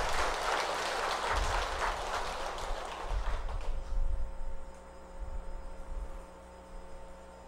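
Applause for a monk at a Buddhist dharma service rises as a broad, steady patter of many hands for about four seconds, then fades into a low room hum with faint rustling.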